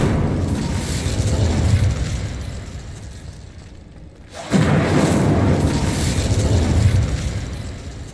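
The Incendio fire spell in Hogwarts Legacy gives a loud, dense roaring blast of flame. It fades briefly, then surges back with a booming rush that carries on to the end.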